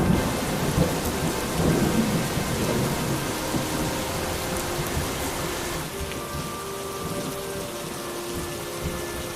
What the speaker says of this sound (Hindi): वो दोनों बच्चों को लेकर तेज बारिश में मुकेश के घर की तरफ चलते हैं।